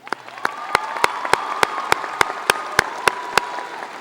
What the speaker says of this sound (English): please join me in a round of applause for these outstanding seniors.